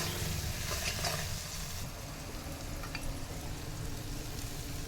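Onions fry in a pan with ginger-garlic and tomato paste, giving a soft, steady sizzle throughout with no talking.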